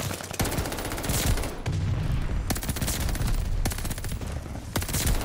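AS44 assault rifle fire in Call of Duty Vanguard PC multiplayer: loud, sustained rapid automatic bursts rattling almost nonstop, with brief breaks between strings of shots.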